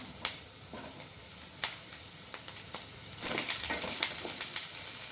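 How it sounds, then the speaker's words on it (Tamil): Three large onions sauté in a pan for a paneer butter masala, a soft steady sizzle broken by sharp scraping stirs, the frying growing louder and busier toward the end, with no talking. "இப்போ மூணு வெங்காயம் மூணு பெரிய வெங்காயம் வதக்கிக்கிறேன்"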